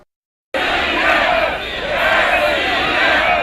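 A flag-waving crowd in Crimea around the referendum vote, shouting and roaring together in a loud, continuous wall of voices that starts abruptly after a brief silence and holds steady throughout.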